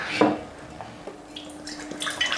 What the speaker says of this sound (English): I'm just adding some water to the pot